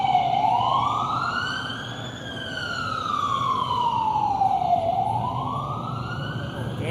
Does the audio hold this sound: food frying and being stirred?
no